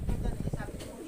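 Racing pigeons returning to their loft after a release in strong wind, with soft cooing and bird sounds close by under a steady rush of wind noise and voices.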